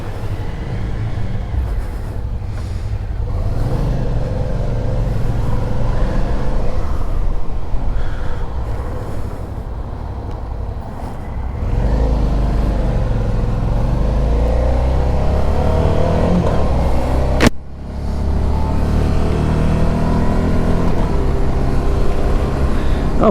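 A Suzuki V-Strom 1000 motorcycle rides through traffic in Quito, Ecuador, giving a continuous engine drone with wind buffeting. It rises and falls as the bike accelerates, with a sudden brief dip near the end.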